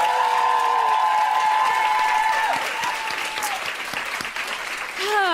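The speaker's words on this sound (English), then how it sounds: "I think it's only fair that we give him a proper second round of applause" A live podcast audience gives a guest a second round of applause, sustained clapping with whoops and cheers, while a voice briefly calls out over the crowd near the end.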